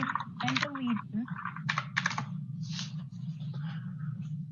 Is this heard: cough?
no